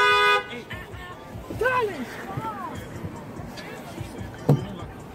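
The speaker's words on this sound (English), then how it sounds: "This boy keep honking at it." A car horn toots briefly at the start, then people talk and call out over street traffic, with a sharp knock near the end.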